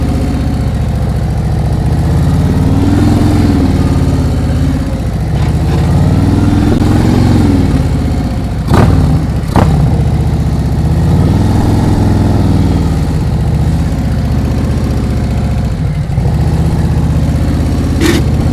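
Motorcycle engine running steadily in first gear during an advanced slow-speed riding practice session in California, a continuous mid-pitched idle-like drone with gentle rises and falls in revs and a couple of brief sharper bursts midway.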